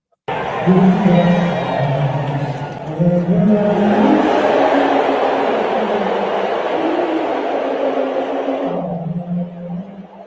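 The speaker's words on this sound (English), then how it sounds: "listen to this crowd" Stadium crowd roaring loudly for a long stretch, a dense swell of shouts and sustained chanting tones that fades at the end.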